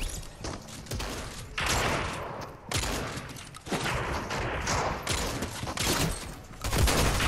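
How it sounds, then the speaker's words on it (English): Auto shotgun gunfire in a Fortnite Team Rumble match: dense bursts of rapid, close shots in several volleys with brief gaps between them, and no talking. "Oh man, I keep running out of bullets. The auto shotgun does like 10 damage a pop."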